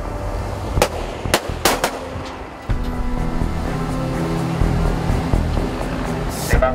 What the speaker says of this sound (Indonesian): Persiapan, tembakan 1 kali.